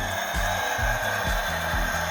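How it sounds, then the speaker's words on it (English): A toy blender on a Jurassic World beverage hut toy whirs with a rough, gritty electronic buzz that pulses in quick repeated cycles, close and steady throughout. "That is the sound of the blender that is making the drink margarita"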